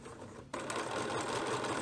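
A sewing machine starts up abruptly and stitches through heavy fabric, its rapid, steady mechanical chatter close and continuous.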